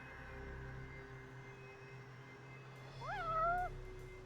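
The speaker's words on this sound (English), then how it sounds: "That's a cat." A cat in the video game Lunacid lets out a single clear, rising-and-falling meow near the end, over a steady low hum of game ambience.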